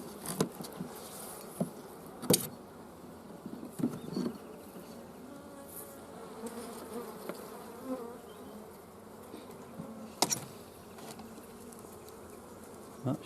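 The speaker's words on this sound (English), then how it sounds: "They're getting a bit aggro on my" Honeybees swarm around an opened beehive, their steady, close buzzing continuing throughout with occasional louder passes as individual bees fly near, and no talking.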